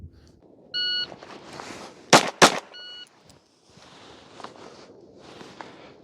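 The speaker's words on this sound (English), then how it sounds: "we will draw, fire another 2 rounds in 2 seconds." Handgun drawn from a holster and fired twice in quick succession on a shooting course: two loud, sharp reports close together, preceded and followed by shot-timer beeps, with faint outdoor ambience and shuffling.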